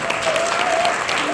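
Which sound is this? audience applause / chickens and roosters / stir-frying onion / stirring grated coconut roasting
audience applause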